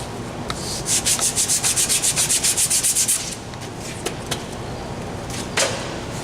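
Fast back-and-forth rubbing of sandpaper smoothing a surface, about a dozen rhythmic strokes up close, then a lower hiss with a few light knocks and scrapes.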